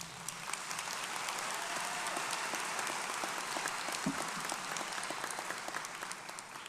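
A graduation audience at a law school ceremony applauds in a sustained, dense wash of clapping from many hands, heard at a moderate distance with no voices rising above it.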